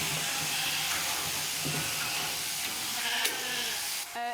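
Sheep bleating at a school farm on a Vendée agricultural high school, calls rising out of a steady hissing, busy background that runs throughout, with no talk.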